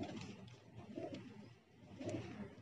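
Pale-coloured pet pigeons cooing in soft, low repeated phrases, two or three close bursts with short pauses, fairly faint and without talk.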